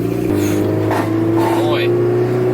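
An EF Honda Civic Si engine with most of its exhaust missing drones loudly and steadily at close range, its raw tone rising slightly as it revs.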